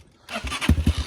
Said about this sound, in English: He's still trying to start that Kawasaki.